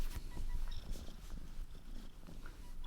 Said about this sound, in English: don't know if you can hear her purring.